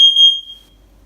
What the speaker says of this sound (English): Testing carbon monoxide.